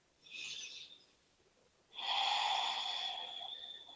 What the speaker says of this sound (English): So just take a couple of breaths here.